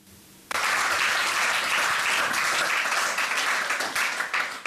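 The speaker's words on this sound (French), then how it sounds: "C'est par les applaudissements des agents de Nyota Radio et Télévision à l'endroit de leur directeur général, Freddy Tchijika, que tout a commencé" Nyota Radio and Television staff applauding their director general at a meeting: sudden onset of dense, sustained clapping from a roomful of people, loud and even throughout.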